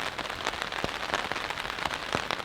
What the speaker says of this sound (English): and you can hear it, it's raining